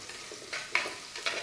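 Onions sautéing in hot oil with dried chillies for a chicken kulambu, a soft steady sizzle with a few brief stirring scrapes and bursts, close and quiet, no talking.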